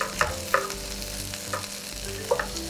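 Kung Pao tiger prawns sizzle in a hot pan with dried chili, under a steady, close frying hiss. Sharp clacks of stirring come at irregular intervals.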